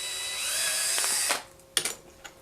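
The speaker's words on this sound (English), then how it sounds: "I just drill that out" A small power drill whines steadily while drilling holes in the ABS chin strap tabs of an X-wing helmet, then stops, followed by a few sharp clicks and taps from handling the part.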